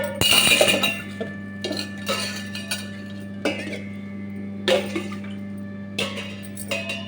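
Tamarind, ginger and spices are washed in water in a kitchen, with repeated clinks of a metal bowl and utensils, splashes and drips in irregular bursts over a low steady hum.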